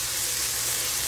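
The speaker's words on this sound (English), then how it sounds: "Green beans are frying in the bacon grease." Close, steady sizzling of green beans frying in hot bacon grease, a constant crackling hiss with a faint low hum underneath.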